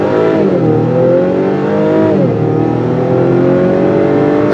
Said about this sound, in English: when you put it in the sport mode, it doesn't shift to red line. It shifts slightly under the red line